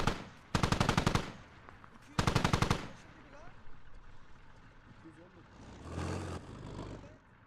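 Two long bursts of rapid machine gun fire in the military shooter game Squad, loud and close, followed by quieter distant rumble and another muffled burst of gunfire.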